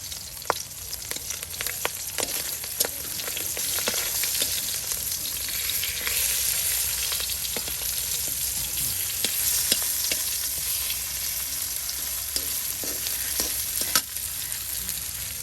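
Chunks of pangas fish sizzle steadily in hot oil for a village-style mashed fish dish, a dense continuous frying hiss with scattered sharp crackles and pops, close and fairly loud with no voices.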